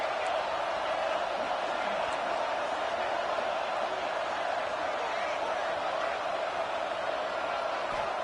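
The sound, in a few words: Ohio State Buckeyes football stadium crowd cheering on third down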